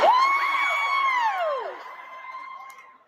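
A comedy audience whoops and cheers loudly, with high rising and falling shouts standing out over the crowd before the noise gradually fades.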